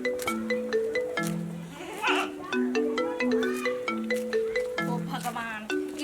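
A melodic phone ringtone plays close and loud, repeating its short tune with bright tones, and a voice briefly breaks in partway through.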